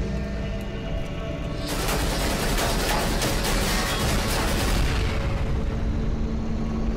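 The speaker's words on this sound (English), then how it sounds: "I love the explosions" A sustained rumbling roar of animated cartoon explosions swells in after a low hum, with dense crackling bursts continuing loudly before easing off.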